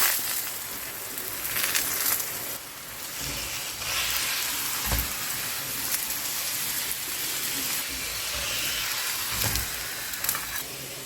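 Mooli paratha frying in oil on a pan over low heat, a steady dense sizzle that runs the whole time, with a few louder crackles and pops and no talk.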